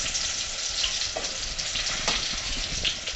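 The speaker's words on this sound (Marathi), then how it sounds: "तेल गरम झाले की त्यामध्ये आपण लसूण घालणार आहोत" Garlic hits hot oil for a fish-egg masala fry, giving a dense, steady close sizzle with faint crackles throughout.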